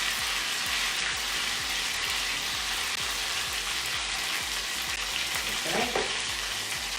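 Potato patties (bergedil) fry in a small milk pan with a loud, close, continuous sizzle and crackle, with a brief clatter of handling near the end.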